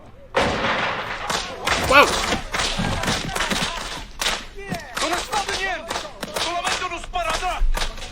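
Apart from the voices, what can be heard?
firecrackers going off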